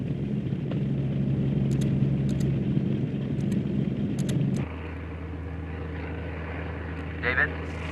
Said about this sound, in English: researchers ride a flying laboratory into the eye of the storm